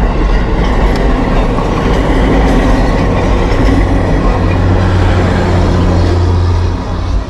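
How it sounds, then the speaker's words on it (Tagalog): A train rolls past close by, a loud, steady rumble with rail clatter and low droning tones filling the whole span, with no talk over it. "May train pa."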